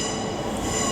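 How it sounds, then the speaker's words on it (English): A TransPennine Express class 397 train at Liverpool Lime Street gives a loud, sustained high wheel squeal with a rumbling undertone, heard close and with no talk. "397012 getting ready to depart behind me with the 1612 Transpennine Express service to Glasgow Central"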